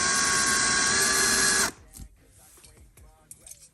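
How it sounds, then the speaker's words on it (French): A power drill bores a hole to mount a motorcycle chain guide, a loud sustained high whine for under two seconds that stops abruptly, followed by quiet handling clicks and low voices. "Il ne reste plus qu'à percer."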